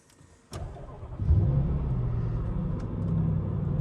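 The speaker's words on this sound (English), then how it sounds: "there is the beautiful purring note of the V8 engine" A Jaguar XK V8 fires up with a push-button start, then settles into a steady, close, low rumbling idle that holds evenly through the rest of the sound.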